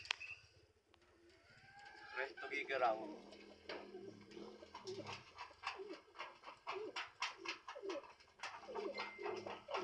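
Soft racing pigeon cooing mixes with rustling, fluttering and other bird calls close by at a pigeon race derby in Tuguegarao, Cagayan, while a person speaks briefly.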